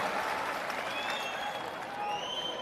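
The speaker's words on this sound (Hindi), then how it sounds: "एक बार जोरदार तालियों के साथ आप सभी" Loud, dense clapping from a large crowd welcoming guests at a youth meeting in a Patna auditorium, a continuous roar of applause filling the hall for a few seconds.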